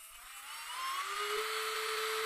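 A BTArtbox portable electric nail drill spins up to full speed. A thin, high whine rises steadily in pitch and then holds, quiet and alone.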